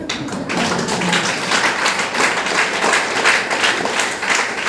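An audience applauding in a hall at a talk, dense steady clapping from many hands, loud and close throughout.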